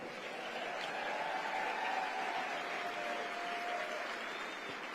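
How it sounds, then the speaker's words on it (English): Audience applause at a Turning Point USA AmFest event, a steady dense roar of clapping from a large crowd lasting throughout. "So I want to give a round of applause to Charlie Kirk and all the Turning Point USA"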